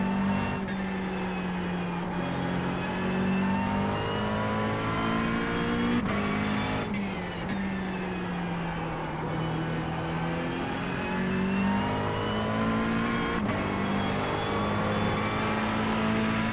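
A race car engine in a racing video game at Spa revs loud and steady throughout, its pitch climbing and dropping in repeated surges as the car accelerates and shifts, with no talk over it.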